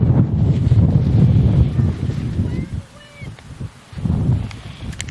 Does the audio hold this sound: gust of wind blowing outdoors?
yes